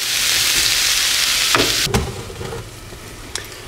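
Breakfast potatoes with onions and red peppers fry in a pan with a steady, fairly loud sizzle. A few sharp scraping knocks from stirring cut through near the middle, then the frying settles a little quieter.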